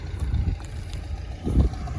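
A T-40AM tractor engine runs steadily in a field after sunflower, giving a continuous low rumble with a louder surge near the end and some wind noise.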